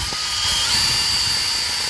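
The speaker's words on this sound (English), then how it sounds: "Easiest if you kind of brace the drill, go high speed, and then drag the workpiece along it." Drill-mounted grit wire wheel spinning at high speed against the inside of a CNC-cut wooden bowl tray, a loud steady whine with constant abrasive hiss, close and unbroken.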